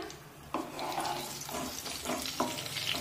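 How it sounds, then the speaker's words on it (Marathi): Brinjals sautéing over a medium flame in a pan for spicy stuffed eggplant (bharli vangi), a soft, quiet sizzle broken by a few scraping stirs and light clatter. "2 मिनिटे या वांग्यांना हलके डाग पडेपर्यंत ही वांगी आपण परतून घेऊया"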